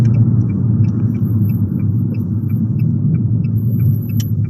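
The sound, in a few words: Abarth with Toyosports exhaust driving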